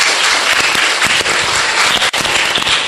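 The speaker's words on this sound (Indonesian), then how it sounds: "aplaus buat adik-adik" An audience at a children's primary-school pantomime competition in Nganjuk, East Java, breaks into dense, sustained applause, a loud continuous wash of clapping from many hands.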